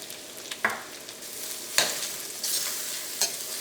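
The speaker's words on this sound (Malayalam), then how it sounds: "ഇത് നന്നായിട്ടൊന്ന് വഴറ്റിയെടുക്കാം." Chopped onions with ginger garlic paste frying in butter in a pan, a soft steady sizzle broken by a few sharp scrapes of a stirring spoon.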